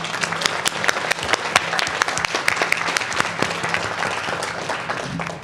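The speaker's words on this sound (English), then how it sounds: "Please let's give Chloe another round of applause" Audience applause at a Board of Education meeting, steady dense clapping from a seated crowd lasting throughout, moderately loud with a low hum underneath.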